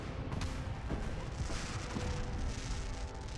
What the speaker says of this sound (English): There's not as many fireworks as I remember there being.